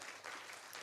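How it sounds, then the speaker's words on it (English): Audience at the Africa Internet Summit 2025 in Ghana applauds the ISOC team after a morning session, a short, steady wash of clapping from a crowd. "A round of applause for the ISOC team morning session"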